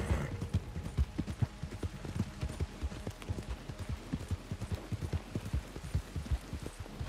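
Horse hooves clip-clop in a steady, continuous rhythm in Red Dead Redemption 2 Online, a western game, with a soft rain-like patter underneath.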